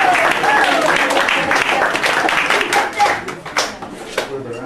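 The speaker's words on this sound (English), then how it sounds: "Round of applause again for Phil" A live audience at a corporate-style event claps and cheers, a dense burst of applause near and loud that thins and tapers off toward the end, with scattered voices mixed in.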